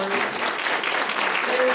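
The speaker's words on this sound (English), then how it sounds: "Can we just give a round of applause real quick for everyone sharing their stories?" Audience applause at a panel event, a dense and steady clatter of many hands clapping together throughout, fairly loud and even in level.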